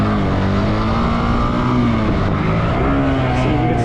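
A car engine drones and surges steadily as it accelerates and swerves across a gravel-strewn lot, the motor tone rising and dipping in a loud, continuous stretch.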